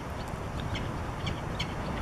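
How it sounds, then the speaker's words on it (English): Peregrine falcon chirping a greeting to its mate near the Boeing Aerospace Building: a few faint, high, brief calls at a distance over a steady outdoor wash of noise. "You can hear her. That's the chirping. That's their greeting."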